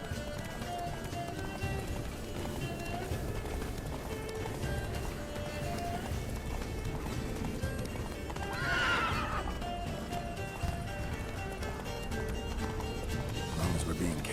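Roach, a horse in The Witcher 3, runs with continuous rapid hoofbeats and gives a loud neigh midway, set under ongoing game sound and voices talking throughout.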